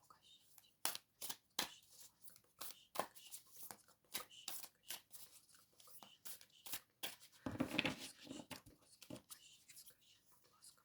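Tarot cards are shuffled and handled with crisp, rapid flicks and slaps in irregular bursts, close up, with soft murmuring in places.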